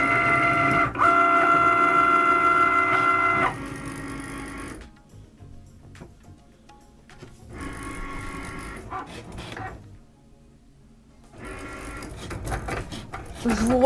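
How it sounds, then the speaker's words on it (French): A Cricut cutting machine cuts a design, its motorized carriage whirring and buzzing in several separate bursts with quieter gaps between, one early stretch carrying a steady whine. "Et donc là, ça a commencé la découpe."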